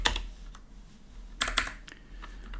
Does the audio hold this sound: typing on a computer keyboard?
yes